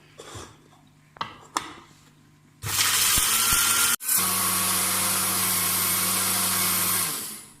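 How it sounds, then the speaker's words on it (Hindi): A home mixer grinder grinds red chillies into spice powder, roaring loud and steady for several seconds after a few sharp clicks and knocks, with a brief cut-out midway before it winds down. "ये घर के ग्राइंडर में मैं पीस रहा हूँ।"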